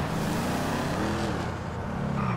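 A Jeep Wrangler Trailcat engine drones continuously while driving off-road in GTA 5, a steady broadband motor rumble with slight wavering, fairly loud and alone without talk.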